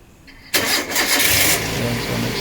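A car engine cranks and catches after a short quiet lead-in, then settles into a steady idle close by, with no one talking.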